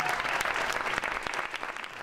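A crowd applauds loudly after a school board vote restoring local control of Newark public schools, producing a brief, dense burst of steady clapping at close range.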